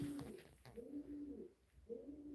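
A pet dove or pigeon indoors gives soft, repeated low coos in short phrases, close and moderately quiet, with no talk over them.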